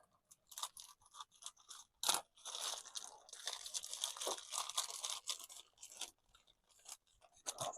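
Plastic packaging around model kit parts for a 1:2 scale Darth Vader build is torn and crinkled open close by, giving irregular rustling, crackling bursts with one sharp louder rip early on.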